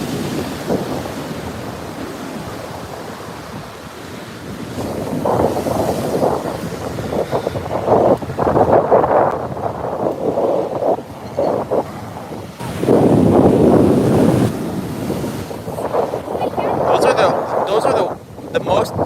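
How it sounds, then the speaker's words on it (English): Heavy ocean surf pounds the shore at Montara State Beach in California, with surges that swell and break in loud bursts, buffeting wind on the microphone, and a person talking between the waves. "those are the most giant ocean waves I've ever seen"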